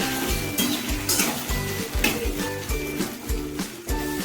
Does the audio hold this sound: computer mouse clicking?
no